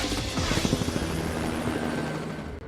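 A Rotorway experimental kit helicopter drones steadily nearby, its rotor thumping in a rapid rhythmic chop over a broad engine roar.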